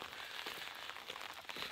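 Steady rain during the rainy season hisses as a continuous broadband wash at the Kasama Castle ruins on Mount Sashiro in Ibaraki, even and fairly faint with no voices.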